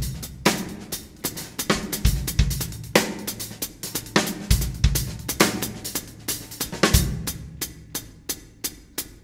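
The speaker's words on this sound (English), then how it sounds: "I'm playing a dotted eighth note with the hi-hat." Hi-hat playing a continuous dotted-eighth-note figure over an 11-beat pattern, sharp repeated strokes in a shifting rhythm over a full drum groove, close and steady with no talking.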